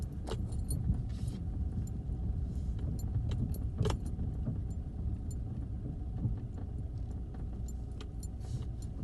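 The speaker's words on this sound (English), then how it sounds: "I'm crawling down the lane slower than walking speed now, because it just bounces the car around and damages it" A car creeps slower than walking pace down a bumpy woodland lane, its low rumble steady beneath sharp rattles and jolts as it bounces over the rough surface.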